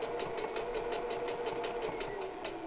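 A sewing machine stitches fabric for a 3D printed face mask filter, running with a steady, rapid mechanical chatter that stays loud and even throughout, with no talking.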